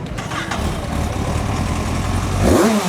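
A four-cylinder motorcycle engine runs loud and steady nearby, its note rising as it revs toward the end.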